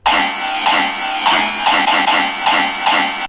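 A synth bass pattern run through an OTT compressor and Crispy Clip clipper, sounding dense, gritty and heavily compressed, its repeating notes smeared into a continuous loud buzzing wall with little silence between hits.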